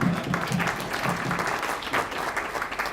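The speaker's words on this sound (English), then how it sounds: "Round of applause." An audience at a San Francisco startup demo night claps continuously, a steady wash of applause with a faint voice briefly underneath.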